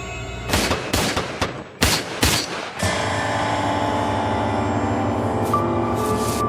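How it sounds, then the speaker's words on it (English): A burst of sharp gunshots, several rapid cracks in quick succession, followed by a sustained ringing, droning tone. "And the gunfire begins."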